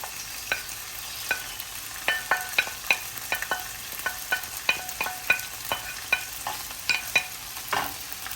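Pork and a mixture of vegetables stir-fry over high heat, sizzling softly beneath irregular clicks and scrapes of a utensil against the pan, close and without talk.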